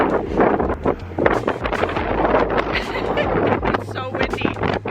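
Strong wind buffets the microphone outdoors in a snowy canyon near Oakley, Utah, a loud continuous roar with gusty rumble, and a voice speaks over it.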